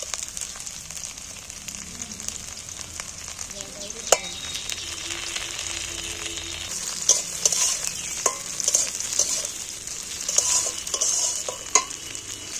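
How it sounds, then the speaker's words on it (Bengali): Chopped tomato and half-fried onion sizzle steadily in a pan for okra curry, with a bright continuous hiss, soft stirring scrapes and a few sharp utensil clinks near the end. "পেঁয়াজটা আধ ভাজা হয়ে গেছে, এবার টমেটোটা এর সাথে ভেজে নেব"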